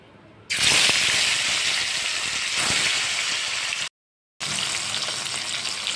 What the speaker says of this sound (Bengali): মাছগুলো আমি এবার ভেজে নেব।